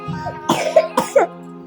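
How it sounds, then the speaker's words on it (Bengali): A child coughs several times in short, close bursts, with a brief pause between the coughs and no talking. "বুঝলো কি কাশি হয়েছে?"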